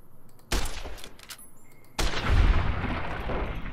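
Varmint rifle fire in Fallout: New Vegas, from a weapon in poor condition: two loud, sharp reports about a second and a half apart, each followed by a rumbling tail of reverberation.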